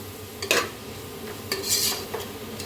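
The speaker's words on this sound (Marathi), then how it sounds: "तर आता चांगलं असं मिक्स करून घेऊया." Rice mixed with curd stirred with a spoon in a pot, giving a few scraping, clinking strokes at irregular intervals, close and fairly quiet, with no talking.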